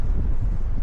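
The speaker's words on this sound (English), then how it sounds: "As you can hear, it's windy as hell." Gusty wind buffets a microphone outdoors during a road cycling session, a dense low rumble filling the short moment with no other sounds.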